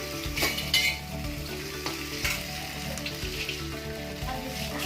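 Raw betel nut chutney spits and sizzles steadily as it fries in oil, with a spoon scraping and knocking against the pan in irregular strokes while it is stirred.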